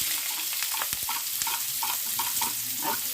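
Chopped onion hits hot mustard oil in a pan, a dense steady sizzle with soft stirring scrapes and small pops throughout, close up and without talk.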